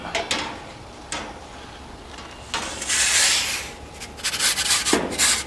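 A pizza on a large peel slides into a Summerset outdoor gas oven, giving a few scraping, rubbing swishes and a brief clatter, close and fairly loud with no talk.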